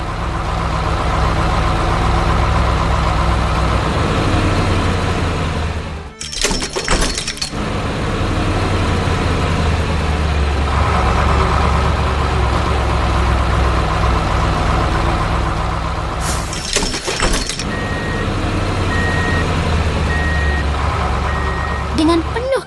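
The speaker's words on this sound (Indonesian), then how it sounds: "Truk derek merah datang dengan gagah untuk memberikan bantuan." Red tow truck in an animation, its engine rumbling steadily with reversing beeps near the end, briefly broken by two loud crashing bursts.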